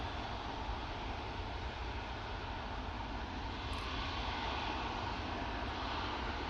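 An EasyJet Airbus A320neo departing Manchester Airport on a windy day, a steady broad roar of jet engines at full thrust, distant and sustained, with no voices.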